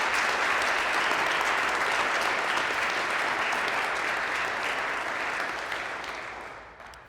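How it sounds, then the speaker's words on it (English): Sustained applause from an audience honoring project volunteers at a community celebration, steady and full for several seconds before thinning out at the end. "if we could put our hands together in a round of applause for all of the volunteers who've made this project possible"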